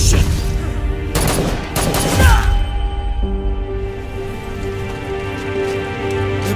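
Dense bursts of automatic gunfire crackle loudly in an Arena Breakout cinematic, a sustained fusillade with a rain-like patter of shots that trails off into a lower steady rumble.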